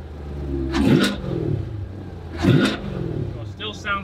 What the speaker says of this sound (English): I'm gonna rev it a little bit.